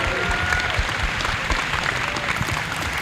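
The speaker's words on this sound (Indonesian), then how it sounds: "Tepuk tangannya mana?" Students applauding at a vocational high school event in Juwana, Pati: continuous, even crowd clapping for about three seconds with faint voices underneath.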